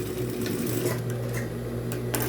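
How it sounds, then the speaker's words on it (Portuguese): A sewing machine runs a safety seam along the edge of a fabric wallet piece, giving a continuous close mechanical whir with fine rhythmic stitching chatter throughout. "Vou passar aqui, bem na beiradinha da peça,"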